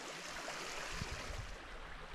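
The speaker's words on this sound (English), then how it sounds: "there's some water running in the Featherhawk Creek today" Water running in a creek on a wilderness hiking trail near a waterfall, a steady broadband rush heard close by and alone, with faint low bumps partway through.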